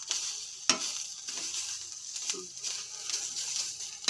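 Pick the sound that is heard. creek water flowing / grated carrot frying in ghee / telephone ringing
grated carrot frying in ghee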